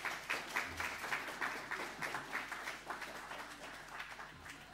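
Steady audience applause after a talk at the Royal Institution, many hands clapping in a dense, even patter that carries on for several seconds and tapers off slightly, with no speech over it.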